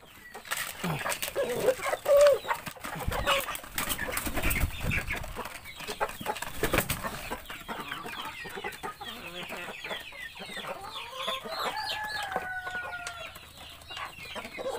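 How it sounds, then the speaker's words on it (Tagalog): Several chickens cluck and call around a feeding spot, with rustling and a few sharp bursts of activity, then a rooster-like call near the end. "So ngayon ay pakain muna tayo ng manok."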